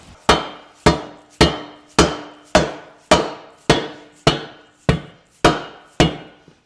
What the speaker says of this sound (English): I'm going to give it a good beating with a dead blow hammer now.